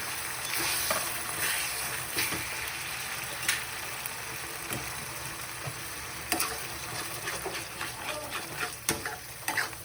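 Mutton curry masala, fresh and raw, roasted in oil in a pan for a Satara-style village mutton curry, sizzling steadily while a spoon stirs and scrapes with irregular clicks, close and fairly loud, no talk.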